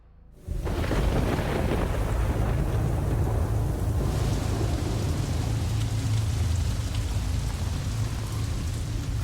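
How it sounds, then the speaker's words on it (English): Heavy rain pours down steadily after a silent start, loud and dense, with thunder rumbling low beneath the downpour throughout. "After 8 days of solid rain."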